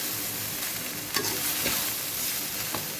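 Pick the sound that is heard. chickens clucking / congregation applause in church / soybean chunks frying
soybean chunks frying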